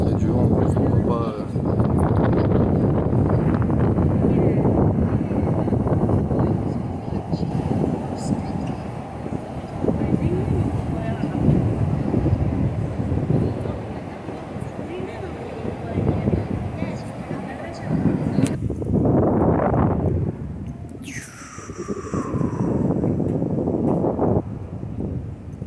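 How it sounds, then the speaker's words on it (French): Strong wind buffets the microphone at night in Tokyo near a fireworks display, producing a steady, loud roar throughout, with a brief whistling sweep near the end. "Il y a du vent, donc on voit pas."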